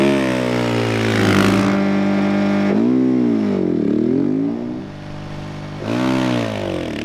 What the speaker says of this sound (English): release the clutch really quickly and then you roll the throttle equally quick